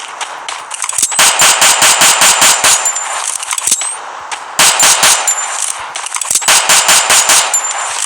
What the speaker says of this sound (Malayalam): നല്ല വെടിവെപ്പിന് സൗണ്ട് ഉണ്ട്